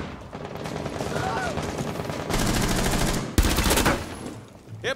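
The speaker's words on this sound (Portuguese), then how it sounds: "Dá um tiro de 12 no chão quebrado ali pra eu entrar." Rapid bursts of Rainbow Six Siege gunfire crackle in quick series, with a couple of heavier shotgun blasts standing out amid the shooting.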